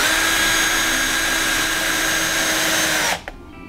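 A power drill on speed 1 drives a screw into plastic wood, a steady loud whine that runs for about three seconds and then cuts off abruptly.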